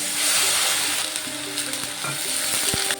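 Ginger-garlic paste fries loudly in oil in a pan for a chicken and chana dal curry, a dense continuous sizzle up close with a few spoon scrapes.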